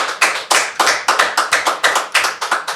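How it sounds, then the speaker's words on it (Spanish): A small group claps in a strong, steady rhythm of sharp, loud unison claps, about four per second, with no talking over it. "vamos a darle un fuerte aplauso al Señor por la vida de Angie"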